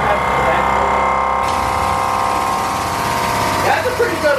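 A loud air compressor pump with no muffler runs steadily at close range with a harsh, droning mechanical roar, its pitch shifting slightly near the end.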